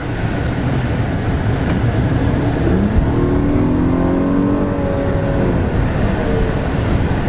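A 2018 VW Atlas SUV accelerates hard on a test drive, its engine a loud, steady interior drone with rising tonal whine and road noise throughout, no speech.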